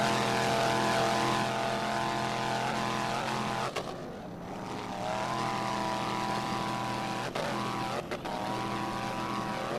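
An offshore racing powerboat with a Mercury 525 horsepower EFI inboard engine and Mercury drive roars steadily at a 2006 offshore championship race in Destin, Florida, a loud continuous drone with brief dips, with no talk.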